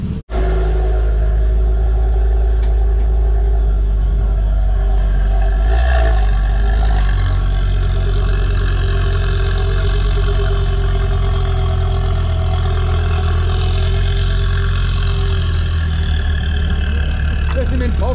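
A Ford Focus Mk2 race car's engine idles steadily up close, a loud, deep continuous rumble lasting throughout after a brief start, with no talking.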